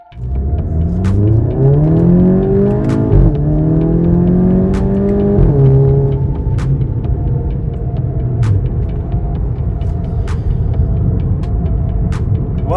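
A car on new tires accelerates hard at full throttle, the engine note climbing loudly through several gear changes into a steady roaring cruise with road rumble, close and without talk.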